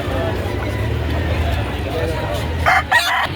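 Rooster crowing at a poultry market in Padre Garcia, Batangas, a loud close crow rising over a dense bed of crowd chatter and market noise, with other fowl sounds mixed in.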